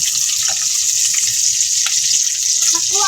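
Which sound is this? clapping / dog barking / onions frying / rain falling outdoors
onions frying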